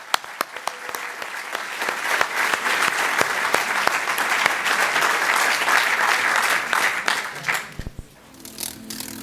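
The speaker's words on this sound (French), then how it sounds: "Je propose qu'on les applaudisse tous les deux très très fort." An audience at a diocesan synod gathering in a university hall gives loud, sustained applause for about eight seconds before it thins and fades out.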